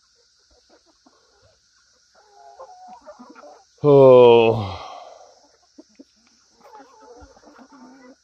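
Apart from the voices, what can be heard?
chickens clucking in a yard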